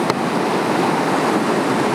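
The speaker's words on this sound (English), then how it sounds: "We got some nice little peeling waist high waves." Small waist-high ocean waves peel and break in steady, continuous surf wash, close and fairly loud, with a touch of wind and no voices.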